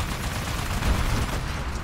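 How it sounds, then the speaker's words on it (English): Automated turrets fire continuously in Titanfall's Frontier Defense mode, a dense, loud wash of overlapping gunfire with a heavy low rumble and no clear gaps. "God damn, my turrets really are tearing things up."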